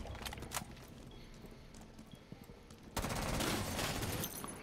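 Sporadic gunshots in Rainbow Six Siege crack over quieter game ambience, then a sustained burst of automatic fire erupts about three seconds in and continues loudly to the end.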